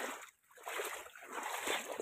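Rushing, splashing floodwater, a continuous broadband churn with a brief dip early on before it surges back, moderately loud and heard alone.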